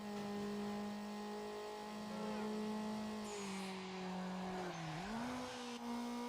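A car in Need for Speed Underground braking hard with a loud engine whine, its pitch sliding down as the tires squeal briefly near the end.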